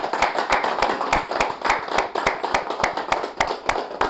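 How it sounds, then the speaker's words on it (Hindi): Audience at a financial advisors' seminar claps in a brisk, regular rhythm of sharp, close hand claps, loud and sustained across the whole stretch. "एक बार जोरदार तालियां एफपीआरटी के लिए।"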